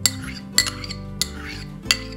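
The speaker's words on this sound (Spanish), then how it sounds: "Y mezclamos bien el azúcar glas con la mantequilla." Butter softened in the microwave being mixed with powdered sugar in a bowl, with rhythmic clinks of a utensil against the bowl roughly every half second over a steady scraping stir, close and without talk.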